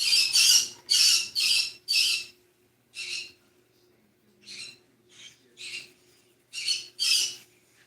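Pet birds squawk indoors in a series of harsh, bright bursts, about a dozen calls in uneven clusters with short pauses, fairly close and alone over a faint steady room hum.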